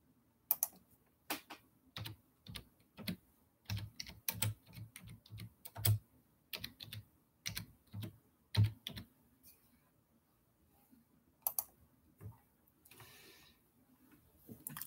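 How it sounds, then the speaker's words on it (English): Typing on a computer keyboard during a live stream, a close, quiet series of irregular key clicks in short bursts with brief pauses between. "Okay, I guess I'll just type in."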